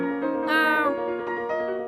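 A stray street cat in an animated quiz show gives a single drawn-out meow, rising then falling in pitch, heard clearly and close with no talk over it.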